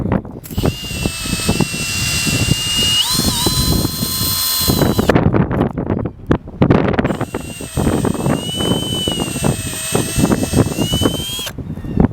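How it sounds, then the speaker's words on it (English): A power drill whines loudly up close in two long bursts separated by a short pause, with a high motor pitch that wavers and shifts as it bites into a floor. "Now I'm going to just drill out the floor here."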